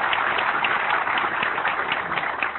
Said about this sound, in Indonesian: Tepuk tangan untuk Pak Louis.